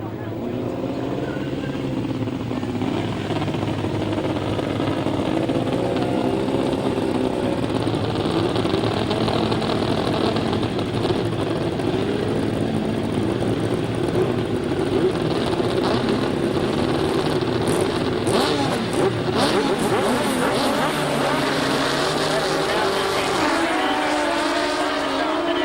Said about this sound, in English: We see the 1000cc right-hand side cars for the very first time.